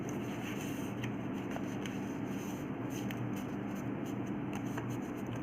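Paper being creased and folded into an origami scallop shell, a close, steady rustling and rubbing with small crinkly ticks throughout.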